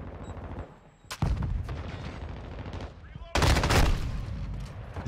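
Heavy shotgun blasts in Call of Duty, the M13 loadout being ground, land as two loud booming bursts separated by a brief lull, with game background noise and some talk around them.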